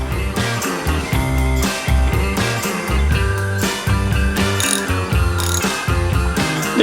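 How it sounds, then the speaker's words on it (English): Ratchet wrench tightening bolts on the front brake caliper of a Yamaha V-Star 250 motorcycle, rapid close clicking in repeated bursts with brief pauses between strokes. "So I'm going to tighten the bolts."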